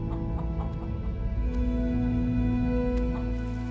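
Chickens cluck in a steady barnyard murmur, several birds close and continuous over a low background hum.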